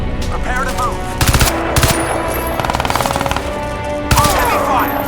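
Bursts of machine gun fire in the video game Crysis 2 Remastered, several rapid rattling volleys cutting through a busy battle mix with radio chatter and shouting in the background.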